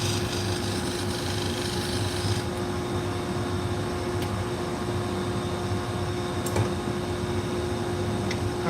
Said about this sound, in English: We're polishing the steel.